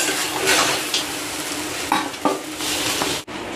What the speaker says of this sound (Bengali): বের গরম মশলা গুঁড়োটা দিয়ে নাড়াচাড়া দিয়ে নামিয়ে নেব